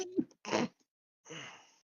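A single sneeze bursts out, preceded by a short sharp inhale, with a brief voiced sound before it; close and fairly loud.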